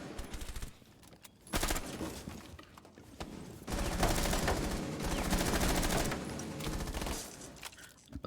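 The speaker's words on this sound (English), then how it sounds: "A lot of shots being traded back and forth, but none are landing" Rapid exchange of gunfire in a competitive video game match, repeated bursts of automatic shots that swell and fade in loud waves, nearby and sustained with short pauses between volleys.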